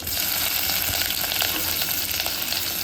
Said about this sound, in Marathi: तूप गरम झालेलं आहे पाव चमचा राई घालते त्यानंतर आता लसूण घालते आणि हिरव्या मिरच्या घालायचे